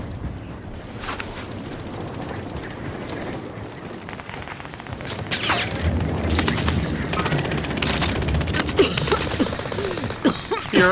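Gunfire in Call of Duty: Modern Warfare, a dense battle mix of rapid gunshots and machine-gun bursts over a steady rumble, with sharp cracks building louder toward the end.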